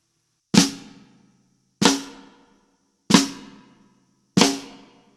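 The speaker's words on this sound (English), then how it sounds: "For this particular groove, I play a right-handed flam, like so." Four right-handed flams struck on a snare drum for a groove, each a sharp crack with a short decaying ring, evenly spaced about a second apart and played alone without talk.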